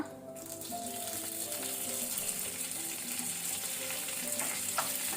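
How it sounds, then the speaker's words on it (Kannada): Cumin seeds, a cinnamon stick and curry leaves sizzle and crackle steadily in hot oil over a low flame, a continuous close frying hiss with small pops and occasional stirring, no voices. "ಎಣ್ಣೆ ಬಿಸಿ ಆದ ನಂತರ ಜೀರಾ ಸೀಡ್ಸ್ ಮತ್ತೆ ಚಕ್ಕೆ ಸಿನೆಮನ್ ಸ್ಟಿಕ್ ಫ್ಲೇಮ್ ಲೋ ಅಲ್ಲಿ ಇಟ್ಕೊಂಡಿದ್ದೇನೆ."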